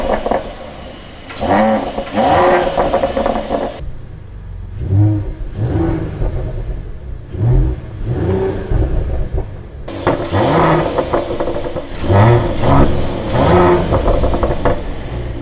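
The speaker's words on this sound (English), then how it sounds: "the sound of this 3-liter 6-cylinder is amazing, especially with the AMG Performance exhaust" A Mercedes-AMG 3-liter six-cylinder with AMG Performance exhaust revs repeatedly from inside the cabin, rising and falling engine sweeps with rumbling exhaust, loud and close, with no speech.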